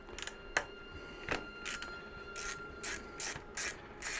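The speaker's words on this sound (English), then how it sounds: "we remove this cover by removing these two bolts" A ratchet clicks in short, close bursts while two bolts are loosened from a cover on a Kawasaki Vulcan S motorcycle. Brief pauses separate the bursts of clicking.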